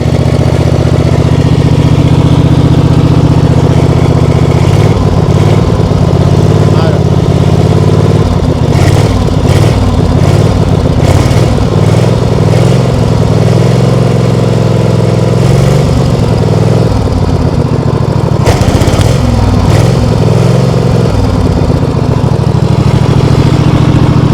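A Kawasaki V-twin engine on a ride-on lawn tractor mower runs steadily and loudly and close by for the whole stretch, with a low rumbling drone and a few brief rises in revs, and no talking over it.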